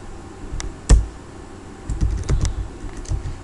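Login details are typed on a computer keyboard in short irregular bursts of clicking keystrokes, close and fairly quiet, with one sharper key press early on and no talking.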